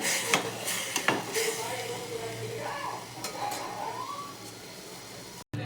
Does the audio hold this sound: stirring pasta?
yes